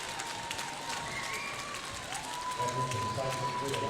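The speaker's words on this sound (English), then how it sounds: "they get a big round of applause for a great play tonight" A basketball crowd at a girls' varsity game between the Michigan City Wolves and LaPorte Slicers applauds steadily as players leave the court, with a whistle and commentary voices running over the clapping.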